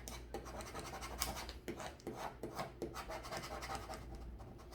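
A plastic scraper burnishes a vinyl decal under clear transfer tape onto a Dollar Tree teacher Christmas gift, making repeated close, rasping scratch strokes in an uneven rhythm, with no talking.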